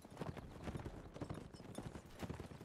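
Rapid clip-clop of many horse hooves in a cavalry line battle video game, dense and continuous throughout, fairly loud with a faint whinny in the mix.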